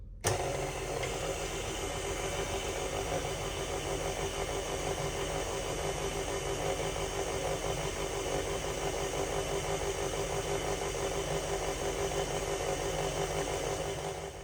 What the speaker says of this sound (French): toujours à vitesse lente, je vais activer le robot pour mélanger le tout